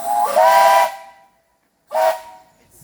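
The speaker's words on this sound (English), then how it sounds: "This is the whistle." A steam whistle on a train at St Nicholas Abbey gets pulled twice, each a short, breathy, hissing toot, the second shorter than the first, with a pause between them.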